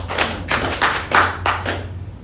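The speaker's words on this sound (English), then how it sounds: "So clap if you agree." A comedy club crowd at a stand-up set claps in a few uneven bursts, loud and close, each surge swelling and dropping off before the room goes quiet.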